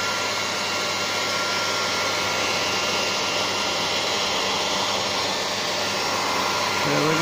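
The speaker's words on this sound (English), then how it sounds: "I've been doing this, you see, with the air dryer" Hair dryer blowing steadily while cleaning a queen guard, a constant loud airy whoosh held at close range throughout, with no speech over it.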